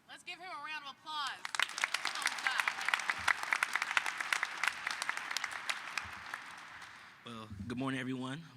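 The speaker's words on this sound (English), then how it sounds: "Let's give him a round of applause." At a Detroit event counting down 150 days to the NFL Draft, the audience breaks into about six seconds of lively, steady clapping, with someone speaking just before and another voice starting right after.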